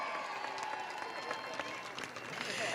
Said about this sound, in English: One more big round of applause for Teacher of the Year